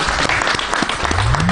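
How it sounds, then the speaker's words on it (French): A conference audience claps steadily throughout, a dense, even burst of applause at a health and environment event. "Si on peut applaudir."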